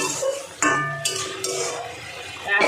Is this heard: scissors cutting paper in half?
no